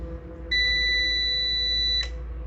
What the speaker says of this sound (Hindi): यहाँ पर यूपीएस के अंदर प्लग स्टार्ट करते ही एक बीप हुई है